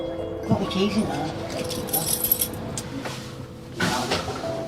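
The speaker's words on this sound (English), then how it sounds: "Got the keys in there." A bunch of keys jangles near the microphone indoors, metallic clinks and rattles bursting up twice over a few seconds, with talking mixed in.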